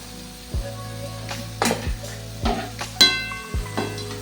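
Mixed vegetables fry in a wok as a metal spatula scrapes and clanks against the pan in a rhythm of about six sharp strokes, with a low sizzle underneath, close and fairly loud.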